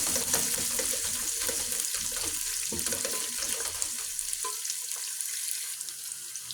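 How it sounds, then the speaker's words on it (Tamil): Onions sautéing in a rocking pan for a Tamil-style fish curry, a steady broadband sizzle with scraping and stirring clatter throughout, fairly close, with no talk. "வெங்காயத்தை போட்டு நல்லா வதக்கணும்."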